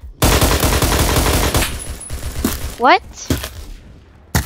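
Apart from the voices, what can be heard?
gunfire in the Phantom Forces video game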